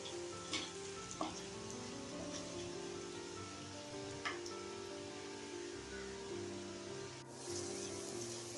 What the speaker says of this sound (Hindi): ये भी दो मिनट फ्राई करेंगे कच्चा खुशक जाने तक